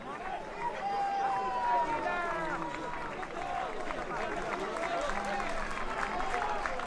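Home crowd at an amateur football match between Atletico Masainas and Isili applauds a player, a steady sustained clapping and cheering heard from a distance with a commentator talking over it.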